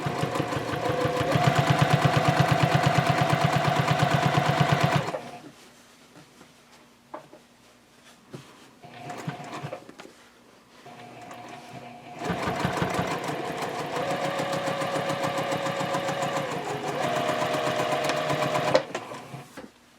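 A sewing machine top stitches and back stitches a tote bag in two loud, steady runs of rapid whirring, separated by a quieter stretch of clicks and fabric handling.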